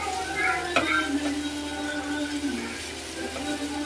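Anchovies with raw tamarind being stirred and fried in a pan, a steady soft sizzle with scraping stirs and a sharp clink near the start, no talk.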